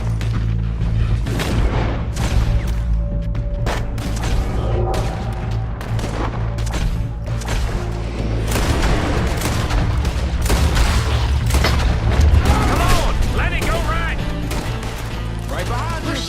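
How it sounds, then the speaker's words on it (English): Gunfire from a shootout in the video game Red Dead Redemption 2: rapid, overlapping shots and booming blasts in a dense barrage, with shouted voices mixed in among the loud cracks. "We're shooting our way out of here, boys!"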